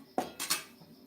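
Peeled potatoes tossed in a metal kadhai with tongs, giving a few short, faint clinks and scrapes of metal against metal, spaced unevenly with quiet gaps between.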